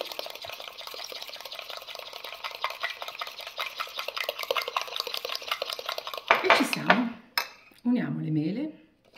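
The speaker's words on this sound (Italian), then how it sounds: "Cerchiamo di togliere tutti i grumi." A spoon stirs apple mug cake batter in a mug, a steady scraping and clinking for about six seconds, then louder knocks and a brief pause as a voice speaks near the end.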